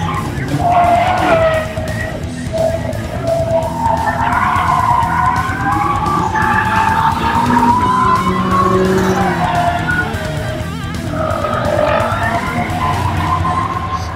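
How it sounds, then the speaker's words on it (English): BMW M5s drift on a track at the Continental Tire Extreme Experience at SEMA 2019, engines revving loud and close under long, wavering tire squeals that rise and fall over several passes, with no speech. "they were doing hot laps, they were burning tires like crazy"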